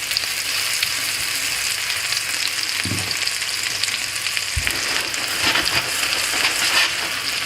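French toast sizzles steadily in butter in a frying pan, a constant crackling hiss with a couple of soft thumps as the slices are flipped, and no talking.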